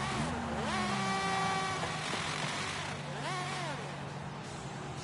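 A 2021 MINI GP engine revs in Forza Horizon 5, its pitch sweeping up and down twice in loud, close, high-revving bursts over a steady engine drone, with no talk over it.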